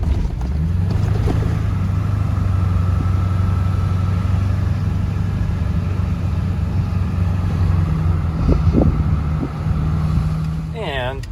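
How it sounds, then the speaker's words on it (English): Steady road traffic in San Jose, a constant low engine rumble and tire noise from passing cars, loud and continuous, with a few faint thumps and a brief voice near the end. "So much traffic."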